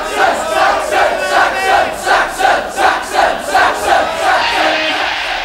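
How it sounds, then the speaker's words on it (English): A big crowd at a 1983 concert roars and chants in rhythmic, pulsing waves, loud and sustained, cheering together in repeated bursts. "It's a big crowd in tonight."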